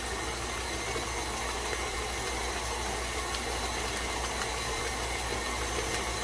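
An electric mixer running at higher speed beats eggs into cake batter, giving a steady, loud whirring drone with even mechanical vibration throughout, and no talk over it.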